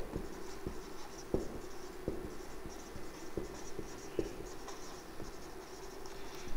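Chalk or marker writing on a classroom board during an English lesson, a steady scratchy scraping with repeated sharp taps as strokes start, fairly faint against room tone, with no talk.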